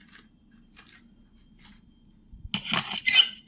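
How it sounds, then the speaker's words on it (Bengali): Pots and utensils clatter in a home kitchen during cooking: a few soft clinks at first, then a louder burst of metallic clattering and scraping near the end, with no voices. "ওই দেখো রান্না হচ্ছে"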